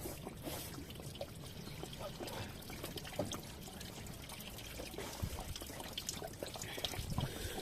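Water and a little oil trickling and pouring from a 1.6 HDI engine's oil cooler into a drain pan, a steady close dribble with scattered drips throughout.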